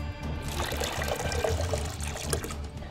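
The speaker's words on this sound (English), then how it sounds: "Add warm water." Warm water pours steadily into a container for a dry ice experiment, a continuous splashing trickle with a low gurgle, close and moderately loud, with no talk.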